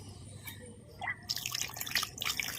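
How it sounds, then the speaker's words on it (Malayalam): Water poured over fish in a bowl and stirred by hand for washing, soft close splashing and trickling drips that start quiet and grow busier after about a second. "എന്നിട്ട് അതിൽ വെള്ളം ഒഴിച്ചിട്ട് വീണ്ടും അതുപോലെ ഇളക്കിയിട്ട് വേണം കഴുകിയെടുക്കാൻ"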